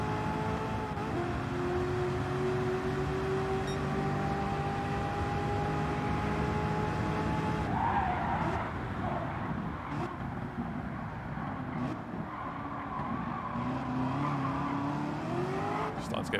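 Race car engine droning steadily in Gran Turismo 7, the pitch rising and falling through gear changes with some tire squeal, continuous and fairly loud throughout, with someone talking over it.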